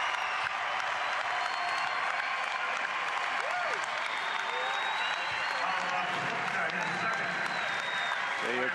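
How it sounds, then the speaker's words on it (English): Sustained crowd applause and cheering fills an arena at a Bradley versus Loyola Chicago college basketball game in Peoria, loud and steady throughout with scattered whistles and shouts. "Listen to the crowd here in Peoria."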